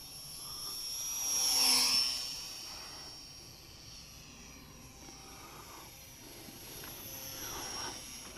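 Small brush electric motor of a Skynetic Tiger Moth RC model biplane in flight, a thin high whine that swells as it passes close around two seconds, then fades into distant outdoor background.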